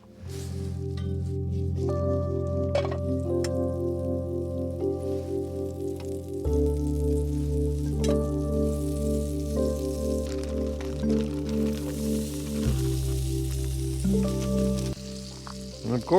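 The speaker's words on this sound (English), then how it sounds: "I'm just gonna cook up some eggs and some" Eggs and hash browns with onions and peppers frying on a camp stove: continuous soft sizzling and crackling under a steady, tonal, droning hum, with small pops scattered throughout.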